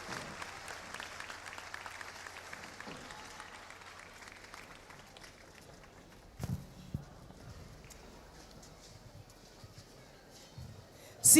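An audience at the Festival del Takuare'ê in Paraguay applauds, a soft sustained patter of clapping in the distance that slowly fades, with a few louder thumps and brief voices near the end.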